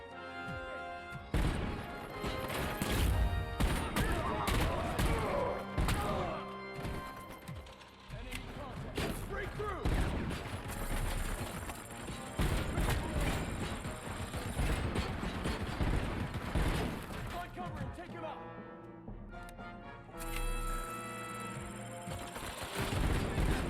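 Gunfire and mechanical combat noise from the video game RoboCop: Rogue City, dense bursts of shots, clanks and crashes layered with a game score, loud and continuous, with someone talking intermittently.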